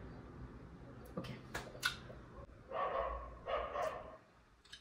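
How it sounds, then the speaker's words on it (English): A dog barking indoors in a few sharp, fairly faint yelps, then two louder, drawn-out barks or whines close together, with small clicks and rustles around them. "Let the dog bark as well."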